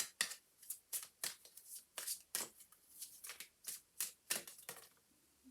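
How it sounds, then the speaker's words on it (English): Oracle cards being shuffled, a quick series of crisp riffling bursts in an uneven rhythm, close and clear with no talk. "I'm going to draw one last card for you for an overall."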